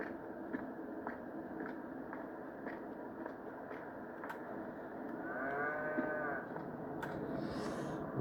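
Holstein cows mooing inside a cow barn on a farm, with a prominent close moo in the middle against steady barn noise and scattered background calls, with no talk.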